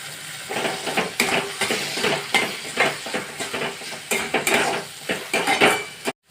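Tomatoes tipped into a pan for palak kofta curry and stirred with a metal spoon, giving a run of sharp clinks and scrapes against the pan over a soft sizzle, close and busy throughout.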